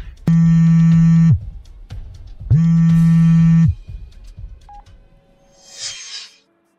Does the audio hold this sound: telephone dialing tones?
yes